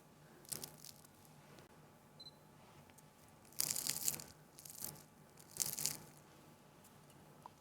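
Homemade potato gem chunks being bitten and crunched up close, a few distinct crisp crunches spaced out over quiet, with no talking.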